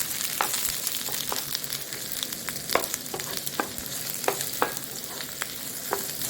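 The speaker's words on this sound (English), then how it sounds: "we are gonna add right away our diced garlic and just fry them together" White onion and diced garlic fry together in a pan for Thai stir-fried noodles, giving a steady close sizzle with soft scraping stirs and small pops throughout.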